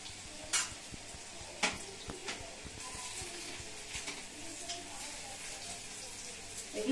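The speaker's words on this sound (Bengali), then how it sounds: "এটা কিন্তু একটু ডিপ ব্রাউন করে ভাজা হবে।" Homemade chicken nuggets fry in oil with a soft, steady sizzle, punctuated by several sharp clinks of utensils against the pan as pieces are turned, fairly close and moderately quiet.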